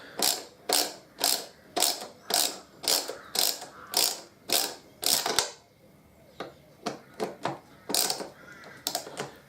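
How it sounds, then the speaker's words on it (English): A ratchet backing a bolt out of a cover on a Harley-Davidson Deuce motorcycle, with a run of evenly spaced, close clicking bursts, a short pause, then a quicker, lighter series of clicks. "So I'll start off by taking this bolt out of this end."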